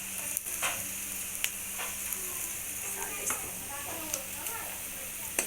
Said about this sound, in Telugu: కొంచెం దూరగా వేగేలాగా వేయించుకోవాలి.